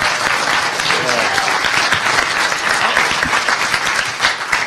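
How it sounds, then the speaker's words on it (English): An audience at a hacker conference bursts into loud, sustained applause, a dense wash of clapping filling the hall for several seconds without pause. "Good applause line."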